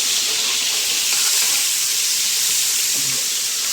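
Garlic sautéing in a hot pan for mandi biryani gives a steady, close sizzle with a soft hiss that runs evenly through the whole stretch, with no voices.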